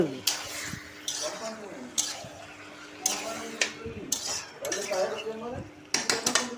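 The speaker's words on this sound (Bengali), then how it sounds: "ভালো করে ঘেটে নিচ্ছি।" A spoon scraping and clanking through chicken and potato curry in a pot during dhaba-style chicken aloo jhol cooking, repeated metal strokes in irregular bursts, with a voice speaking between them.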